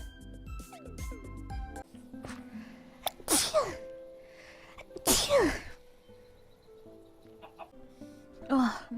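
A streamer's sneeze, from a compilation of livestreamers' sneezes, bursts out loud and close about three seconds in and again near five seconds, with sharp broadband blasts surrounded by music and other background sounds.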